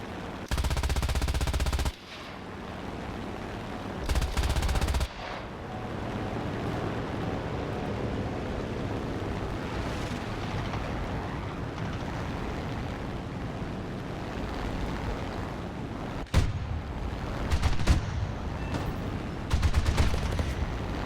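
Video game machine-gun fire in a modern military battle, with sustained rattling bursts and louder sharp volleys over a dense rumbling background, heard without talk.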